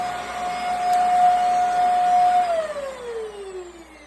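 An old household vacuum cleaner with a failing circuit board and worn motor runs with a steady, loud whine, then winds down as it cuts out on its own.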